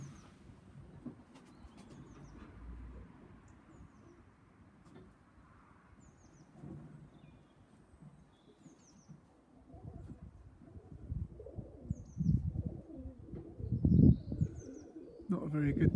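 Pigeons cooing and chirping in the open as six birds are released, faint at first and growing louder toward the end, with a person speaking and other background noise.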